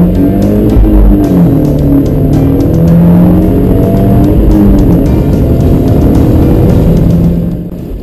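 A Fiat 124 Spider or Abarth 124 1.4 turbo engine roars steadily and loudly at high revs while accelerating, a throaty sustained drone close by with no talking.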